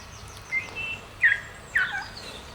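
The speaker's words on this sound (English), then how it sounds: "That's my oldest turkey." A turkey on a hot day near fresh water on a home growing plot gives three short, sharp high calls spaced about half a second apart over a quiet outdoor background.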